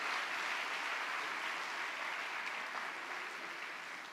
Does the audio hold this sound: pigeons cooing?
no